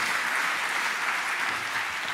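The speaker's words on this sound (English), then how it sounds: "give him an encouraging applause" Encouraging audience applause for a speaker at a lightning talks session, steady dense clapping from a crowd, moderately loud and continuous throughout.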